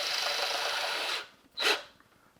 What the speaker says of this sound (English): put it in my power drill,